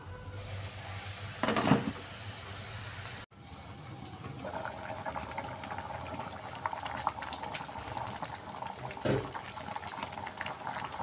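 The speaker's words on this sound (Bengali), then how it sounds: "এবার কিছুক্ষণের জন্য আমি ঢেকে দিচ্ছি। সবজিগুলা সুন্দরভাবে সিদ্ধ হয়ে যাবে" Winter vegetables for mung dal simmer in a covered pot: a soft, steady bubbling hiss follows a brief clatter and a short break, with a faint low hum running underneath.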